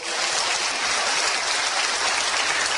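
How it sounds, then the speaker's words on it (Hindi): An audience at an Amway business seminar applauds, a fairly quiet, even hiss of many hands clapping at once, unbroken and without voices. "आप जोरदार तालियां बजाइए"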